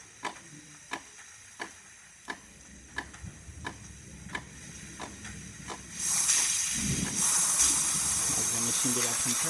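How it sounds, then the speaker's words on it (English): A DeLonghi Magnifica espresso machine ticks in a regular run of sharp clicks as it builds pressure, then its repaired steam wand bursts into a loud, steady hiss that carries to the end. "the steamer working perfectly fine"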